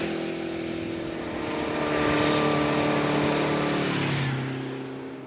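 A four-cylinder motorcycle engine hums steadily, its tone rising and swelling in the middle before easing back down as it settles.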